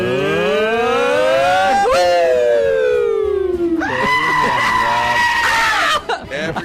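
Goat bleats on a radio show, loud harmonic wavering cries that rise and fall, one long call followed by a second strained, quavering bleat, close and clear with a short break near the end.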